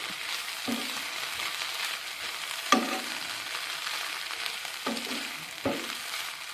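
Drumstick leaves (murungai keerai) sauté in a pan with a steady soft sizzle, broken by several sharper stirring scrapes and one clear clink against the pan, close and moderately loud.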